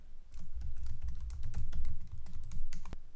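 Code is typed quickly on a computer keyboard, a dense run of sharp key clicks over a low steady hum, close and continuous with a final louder keystroke and no talking.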